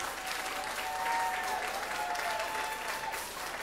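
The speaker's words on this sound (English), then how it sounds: "I want to give a recognition and a very big applause to survivors if they're in the house" Concert crowd applauding survivors, a sustained wash of clapping and faint cheers, fairly quiet and distant, with a few tonal whistles or feedback lines running through it.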